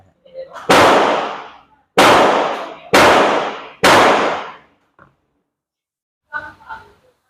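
Four loud, sharp Beretta 92 FS 9 mm pistol shots ring out in quick succession outdoors, each with a short decaying echo, followed by a faint click and brief muffled voices near the end.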